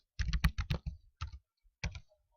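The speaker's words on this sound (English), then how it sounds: "this is just like the normal typing" Fingers type text on a computer keyboard in quick clusters of close, crisp keystrokes, pausing briefly between bursts, with no talking.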